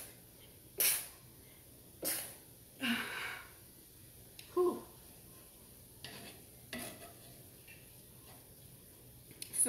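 Several short bursty sneezes, set off by taco seasoning spices in a home kitchen, stand out over a quiet background with faint stirring between them.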